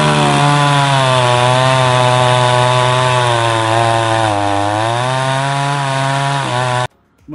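A chainsaw cuts through a piece of wood as a loud, steady, close engine whine. The pitch dips as the blade bogs down mid-cut, then the sound stops abruptly near the end.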